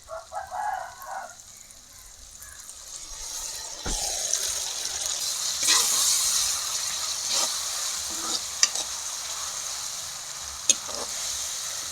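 Ginger-garlic paste with a little coconut sizzling in hot oil, a steady moderate frying hiss with occasional clinks of a stirring utensil, no talk.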